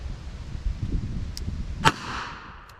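A single sharp revolver shot fired while chronographing ammunition, one crisp crack standing out from a low outdoor background rumble, with a brief fading tail afterward.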